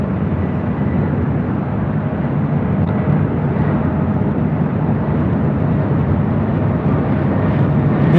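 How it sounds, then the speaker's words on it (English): A Delta Airlines Airbus A319 arrives at LAX from Houston, its steady broadband jet roar holding loud and constant throughout, with no speech over it. "This is Delta Airlines 1143 coming in from Houston Intercontinental on an A319."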